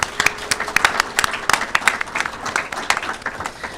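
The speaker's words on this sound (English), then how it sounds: "let's go ahead and give a round of applause to all of our hardworking students" An audience applauds hardworking students at a spring final presentation, with steady, dense clapping close by and a few voices mixed in.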